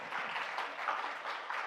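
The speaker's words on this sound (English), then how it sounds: "So please let's have a round of applause" An audience applauds during an introductory InDesign CC workshop, with soft, continuous clapping that stays fairly quiet and even from start to finish.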